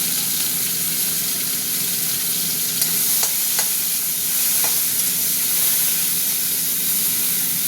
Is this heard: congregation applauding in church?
no